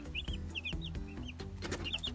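Chickens on a farm cluck in short, repeated bursts over a low, steady background hum, several birds calling close by.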